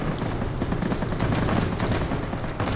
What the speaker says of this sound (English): Drop some bombs, there they go. Actually sound like a bomb.